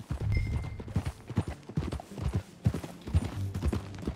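Horse hooves clip-clop in Red Dead Redemption 2, a steady walking rhythm of hoof beats on a dirt path with a faint whinny near the start, close and loud with game ambience and no speech.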